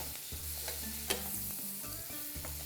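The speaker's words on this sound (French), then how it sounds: "Le beurre, il va fondre." Butter melting in a hot pan for filet mignon, with rosemary and thyme to follow, gives a steady low sizzle with soft scraping and clicks, and one sharp tap near the middle, fairly quiet and without any talk.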